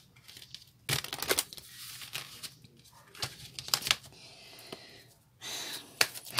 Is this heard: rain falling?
no